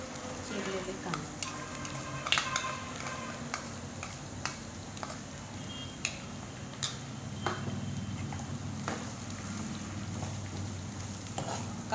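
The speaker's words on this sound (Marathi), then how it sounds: "कांदा आपल्याला तेलामध्ये व्यवस्थित भाजून घ्यायचा आहे, लालसर होईपर्यंत." Chopped onions fry in oil over ginger, garlic and a little coriander: a soft, steady sizzle with scattered light taps and clicks from stirring, fairly quiet and with no speech.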